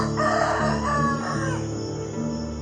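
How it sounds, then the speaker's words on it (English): A rooster crows loudly and close, one long drawn-out cock-a-doodle-doo over a steady background bed, with no talking. "the rooster crowed the second time."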